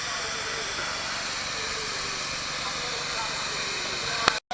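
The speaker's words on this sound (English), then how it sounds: "Doing some steam plowing here." Steam ploughing engine at a steam rally, a steady broad hiss holding throughout with a low engine rumble underneath, ending in a brief sharp burst before cutting out.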